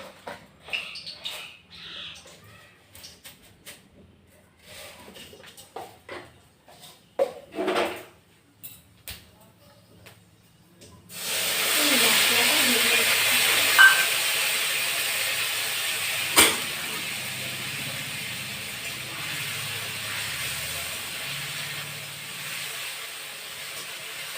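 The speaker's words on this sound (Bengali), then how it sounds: "আমি একটু দুটো শুকনো লঙ্কা একটু পাঁচফোড়ন দিয়ে দিচ্ছি" A few faint clinks and handling sounds come first, then dried red chillies and panch phoron go into hot oil and a steady, loud sizzling hiss runs unbroken to the end.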